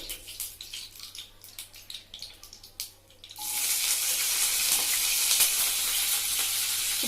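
Three green chillies hit hot oil in a pan and burst into a loud, steady sizzling hiss that carries on to the end. Before that come a few quieter scrapes and clinks.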